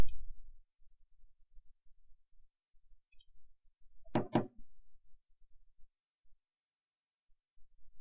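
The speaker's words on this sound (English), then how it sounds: "Let's use a door knocker." A single short burst of heavy knocks from a door knocker in the Sherlock Holmes video game, near and loud, surrounded by near silence and faint low thumps.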